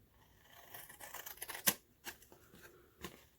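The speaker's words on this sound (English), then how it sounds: "We'll bring in our scissors." A few snips and rustles of scissors trimming a glued paper banner, with one sharp, louder cut in the middle, close up and otherwise quiet.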